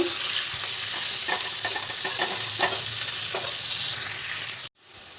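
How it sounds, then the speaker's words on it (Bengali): Three finely chopped onions sizzle loudly in hot oil as they are stirred in a pan, with repeated scraping strokes over a constant hiss before an abrupt cut. "এটা একটু লাল লাল করে ভেজে নেব"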